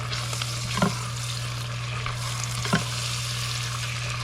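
Chopped onion and carrot frying in oil in a pan give a steady, close sizzle, with two brief scraping clicks as they are stirred together; no one speaks.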